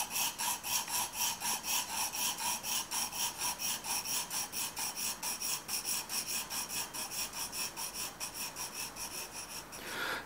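A pencil draws long straight practice lines on paper, giving a fast, even back-and-forth scratching rhythm of many quick strokes. It is soft and close, with no voices.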